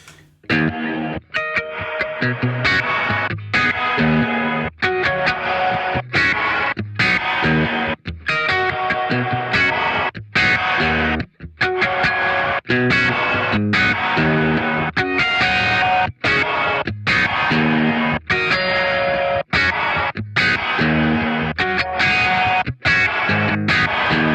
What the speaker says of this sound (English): It's a reversed gated reverb sound.